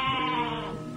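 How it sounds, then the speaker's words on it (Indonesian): A goat gives a single sustained bleat, close and clear, heard on its own. "Kambing itu tergolek di sela-sela semak belukar."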